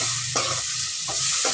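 Mushrooms sauté in a pan, a continuous close sizzle broken by several quick stirring scrapes, with no voices.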